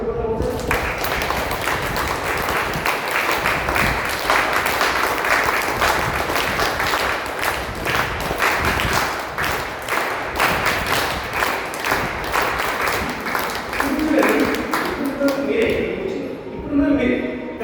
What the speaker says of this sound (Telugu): వాళ్ళ కోసం కానీ చప్పట్లు కొట్టాలి సార్.